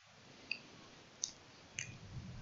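Three quiet, sharp mouse clicks land about a second apart while network adapters are added in VMware Workstation settings, with nothing else audible around them.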